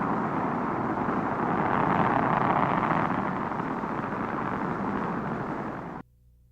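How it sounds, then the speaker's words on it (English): A rocket launch gives a loud, continuous, broad roar that swells slightly and then cuts off abruptly. "every American astronaut rides into space in California-made rockets."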